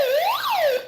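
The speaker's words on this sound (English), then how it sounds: "Oh, so that's the siren." A short electronic siren sweep rises and falls once, loud and near, with a bright wailing tone.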